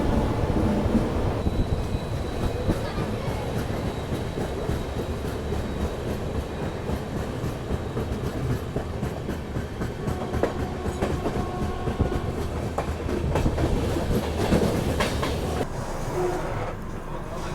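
The Mumbai Howrah Duronto Express runs on its rails with a steady rumbling roar and rhythmic clickety-clack, heard from inside the moving train, loud and continuous throughout.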